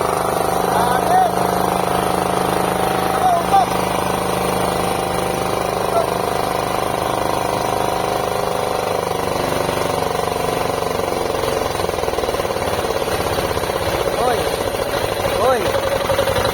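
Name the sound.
diesel generator engine starting and running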